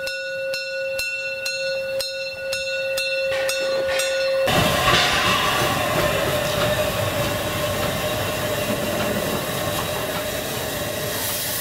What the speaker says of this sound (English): The locomotive bell sounds continuously